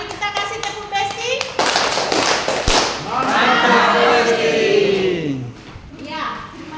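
Hands clap loudly in the first few seconds at a training session for bank clients, then the clapping fades under a voice that keeps speaking.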